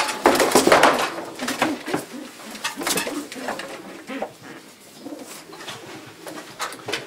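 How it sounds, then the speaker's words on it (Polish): Racing pigeons coo repeatedly inside a pigeon loft, soft rhythmic rolling calls close by, with light scuffs and a faint knock between them. "Tu jest ten mój gołąb, syn Lubity"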